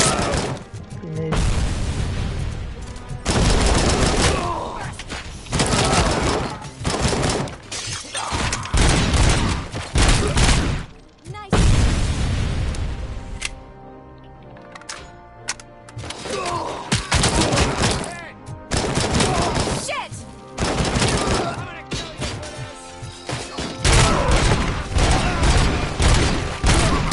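Heavy gunfire and several grenade blasts fill a Robocop: Rogue City firefight, with dense bursts of shots, booming impacts and debris crashes, broken by a short lull midway.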